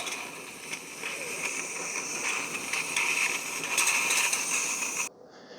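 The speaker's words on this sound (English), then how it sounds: "So they recommend shooting the water into the drip tray or another container, and then you'll get some steam out." A Farberware espresso maker's steam wand hisses steadily for several seconds with a faint pulsing texture, loud and close, then cuts off abruptly.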